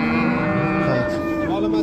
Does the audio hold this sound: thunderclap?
no